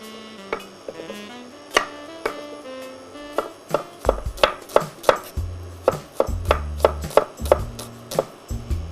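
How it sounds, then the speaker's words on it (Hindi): A knife chops onion on a board for a stuffing, sharp close taps starting sparse and settling into a quick, regular rhythm, with background music underneath. "तब तक मेरा जो अनियन है उसको थोड़ा चॉप कर लेते हैं।"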